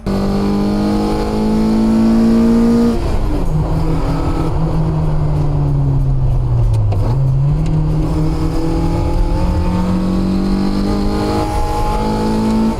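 A rear-wheel-drive JDM sports car fitted with individual throttle bodies, its engine holding a loud, steady rev that dips and climbs again, a smooth droning tone with layered harmonics close by.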